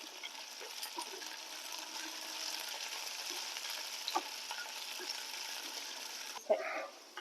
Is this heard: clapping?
no